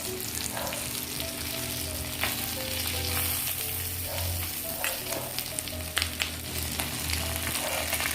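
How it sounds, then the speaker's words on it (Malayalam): Grated coconut fries in a pan for varutharacha chammanthi, giving a steady, close sizzle with occasional stirring scrapes throughout. "ഒന്ന് നന്നായിട്ട് ചുവക്കെ നമുക്ക് വറുത്തെടുക്കാം"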